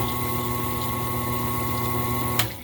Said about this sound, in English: I will say that motor sounds nice.